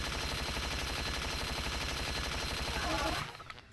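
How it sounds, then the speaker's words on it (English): Rapid combat assault rifle fire from the game Unreal keeps up as a dense, steady stream of shots for about three seconds. Then it stops abruptly and only a faint tail remains. "I love the combat assault rifle against those guys"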